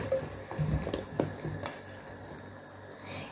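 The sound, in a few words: champignon mushrooms frying with onion in pan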